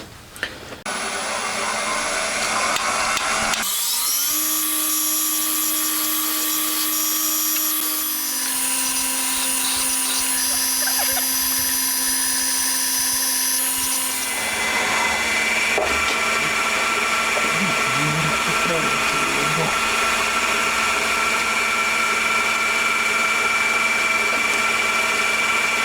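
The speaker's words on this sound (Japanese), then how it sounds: "センタードリルによる下穴付け終わりましたね。" A continuous high-pitched whine of a center drill machining pilot holes in a metal crankcase for a 125cc four-cylinder engine, with shifting tones as the cut changes, loud and close, steady throughout.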